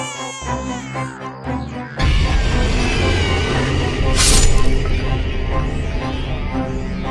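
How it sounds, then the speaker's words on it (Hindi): Crying children as a horror-story sound effect: after a short eerie musical intro, loud, sustained wailing and sobbing sets in, with a high piercing cry rising midway over a dense, reverberant backdrop. "बच्चों के रोने की आवाज"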